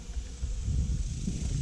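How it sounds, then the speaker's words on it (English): A swarm of honeybees buzzes around a hay baler in a dense, steady low drone that stays fairly loud and unbroken, with no voices. "You still hear a bunch of bees somewhere over here."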